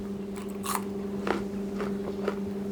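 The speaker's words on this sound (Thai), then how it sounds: "ลูกมะละเนี่ยเล็กๆมันจะกรอบ" Someone bites into and chews a small, crunchy fruit close up, making a few crisp crunches spaced across a couple of seconds over a steady low electrical hum.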